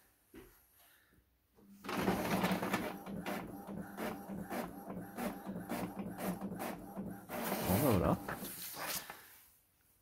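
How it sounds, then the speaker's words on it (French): An inkjet printer runs a page print with a newly chipped ink cartridge, giving a steady mechanical whir with rhythmic carriage passes and a louder feed burst near the end, close by and uninterrupted. "Soi-disant, je vais en imprimer une, on va voir."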